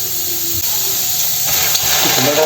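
Onions fry gently in oil with a loud, steady, close hiss and sizzle throughout, rising slightly toward the end.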